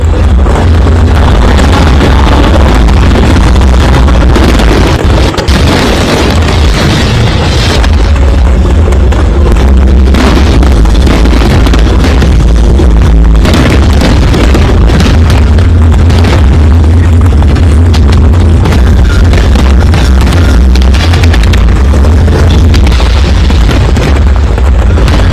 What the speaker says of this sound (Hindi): उसके बाद देखिए जरा अयोध्या में आतिशबाजी, और ऐसी आतिशबाजी जो इससे पहले नहीं देखी।